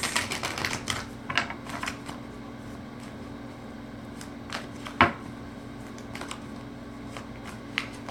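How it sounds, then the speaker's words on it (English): Tarot cards being shuffled by hand, a run of quick crisp riffling bursts at the start followed by sparser flicks and one sharper snap, close and moderately quiet over a low room hum. "One last shuffle"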